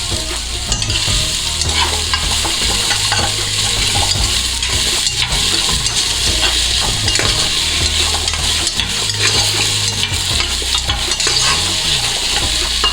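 Carrots sautéing in a pan for a Kerala masala curry, with a steady loud sizzle and repeated scraping stirs of a spoon against the pan throughout, no voices.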